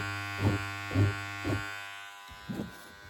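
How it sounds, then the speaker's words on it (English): An electric razor buzzes during an ASMR haircut, pulsing in several close bursts against a steady hum, with no talking. "the razor is not too loud for this video"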